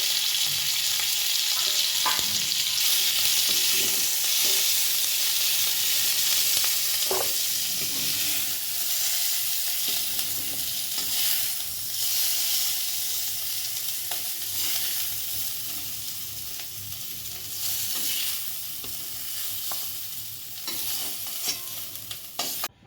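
Capsicum pieces frying in a pan are stirred continuously, giving a steady close sizzle broken by repeated scraping and clinking strokes of the spatula throughout, with no voices.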